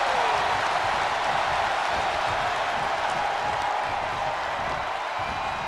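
A wrestling arena crowd in the wrestling game WWE 2K23 roars and applauds in a steady, dense wash of cheering that holds evenly throughout, with no one speaking over it.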